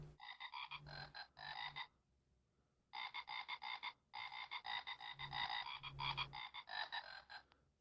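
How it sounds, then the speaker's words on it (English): A frog croaks in bursts of rapid, raspy pulses, close and clear against quiet, pausing briefly between rounds. "Now we hear a frog."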